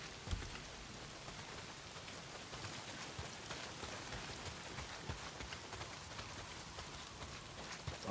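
Steady rain pours down in the Days Gone game world, a dense, even hiss of drops with scattered sharper patters, fairly soft and continuous with no voices.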